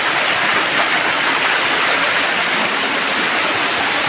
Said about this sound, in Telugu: బ్యాక్ సైడ్ అయితే కొండ మీద నుండి వాటర్ ఫాల్స్ ఎలా వస్తున్నాయో